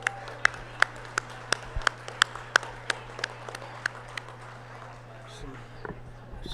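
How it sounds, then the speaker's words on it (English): Scattered, sparse clapping from a small crowd at a market goat show at the Colorado State Fair, a dozen or so sharp claps that thin out and fade, with a low hum behind. "Let's give these kids a round of applause."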